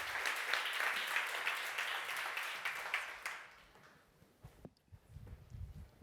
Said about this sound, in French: je vous demande d'applaudir chaleureusement Céline Lemaire